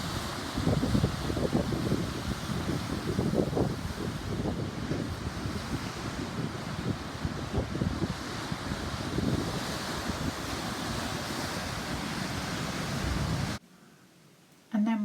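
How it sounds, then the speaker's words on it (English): Sea waves and strong wind sweep the clifftops at Perranporth in Cornwall, a loud, continuous roar of surf with heavy wind buffeting the microphone, cutting briefly to near quiet at the end. "just watched the waves"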